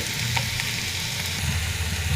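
Vegetables, with beetroot, red cabbage, turnip and prawns, fry in a pan with a dense, continuous sizzle and soft stirring underneath, heard close with no voices.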